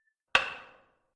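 One sharp hammer blow on a nearly solid metal meteor stone, ringing briefly with a metallic tone that fades within half a second, alone and close.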